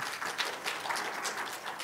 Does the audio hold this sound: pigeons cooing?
no